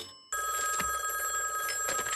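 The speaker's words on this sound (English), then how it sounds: "I'm calling from a payphone." A payphone rings in a SpongeBob SquarePants video game, a bright electronic telephone bell that starts abruptly after a brief silence and rings steadily, close and loud.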